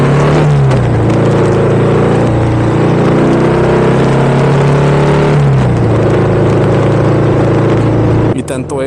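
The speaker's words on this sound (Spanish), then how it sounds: "Tiene un rugido muy característico que cuando aceleras pareciera como si fuera enojada." A Harley-Davidson FXDR motorcycle engine rumbles loud and close, rising in repeated revs with a deep, growling throb, dipping back between throttle blips before cutting out at the end.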